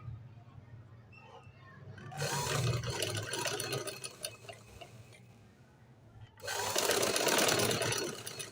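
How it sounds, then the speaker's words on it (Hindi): Sewing machine running in two bursts as it stitches a designer side border strip onto a kameez, loud and steady each time with a brief quieter pause between, no talk over it. "इस तरह ऊपर से सिलाई लगाना स्टार्ट करेंगे।"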